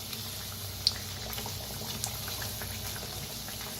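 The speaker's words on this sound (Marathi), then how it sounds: "छान तळून घ्यायचं दोन्ही साईडने" Vadas frying in oil, a soft, steady bubbling hiss with faint crackles and one small clink, heard close and without voices.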